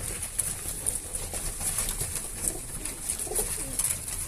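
Domestic pigeons, a loft of young high-flying birds, coo steadily in the background alongside soft rustling, a continuous moderate-level texture with no talking.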